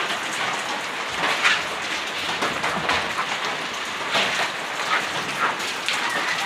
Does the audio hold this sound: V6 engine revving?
no